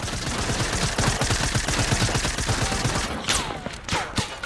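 Rapid video game gunfire crackles in dense bursts through most of the stretch, a steady loud rattle of shots with a few sharper whooshing effects near the end, no talking over it.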